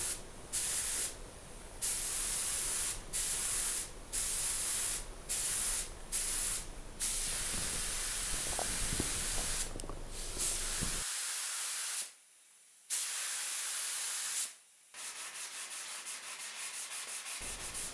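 Clear nitrocellulose lacquer sprayed onto a Telecaster guitar body, heard as loud close hissing bursts in short regular passes, then longer continuous sprays separated by pauses.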